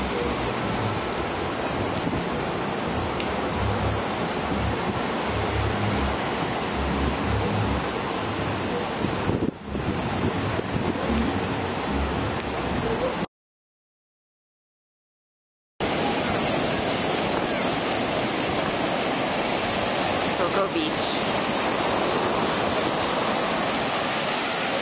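Ocean waves roll in beside a pier at Cocoa Beach, heard from a high hotel floor as a broad, steady wash of surf, broken by a short silent gap partway through.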